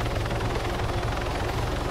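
Steady, close whirring rotor and engine drone of a helicopter in the game Arma 3 during a PvP event, continuous and loud with no talk over it.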